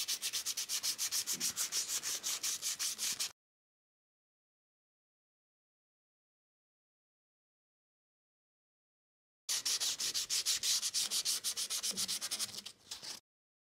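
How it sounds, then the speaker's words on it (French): Light hand sanding of CNC milling machine rails to remove rust traces, a close, rapid rhythmic rubbing in two bursts of about three seconds each, separated by a long silence. "ponçage léger pour enlever les traces de rouille."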